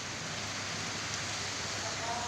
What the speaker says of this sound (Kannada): ಸಿಕ್ಕಾಬಿಟ್ಟೆ ಜೋರು ಮಳೆ ನೋಡಿ